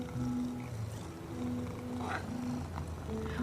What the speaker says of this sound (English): And they purr when they are happy.